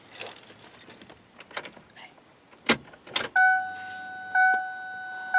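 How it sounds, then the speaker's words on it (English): Car keys jangle and clink as they go into the ignition of a Ford Explorer, then a steady two-tone electronic warning chime sounds, pausing briefly before resuming. "get the keys, put them in the ignition, and hopefully this thing comes on"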